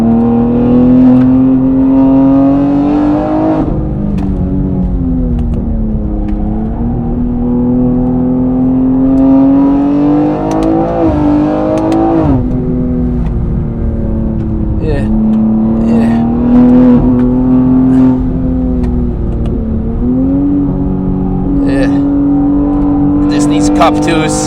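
A McLaren 765LT threads through traffic at the Nürburgring, its engine a loud, steady drone that climbs and falls with repeated rises in revs, while someone talks over it the whole time.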